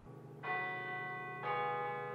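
A bell at the University of Kansas tolls twice, each strike ringing out with a rich, sustained tone that hangs in the air.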